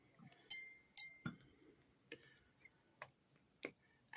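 A glass pipette clinks against a glass ink bottle in a quiet room, a series of sharp, bright taps and rattles spaced irregularly, close and delicate, with soft handling noises between.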